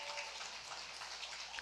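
Quiet applause for a contestant at a collegiate Excel championship event, a steady wash of scattered clapping from a modest crowd, faint and continuous throughout.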